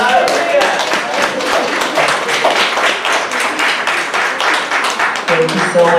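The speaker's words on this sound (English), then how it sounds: "Let's give them a round of applause." Congregation applauding at a Mother's Day church morning service, steady dense clapping throughout, with a voice speaking faintly over it.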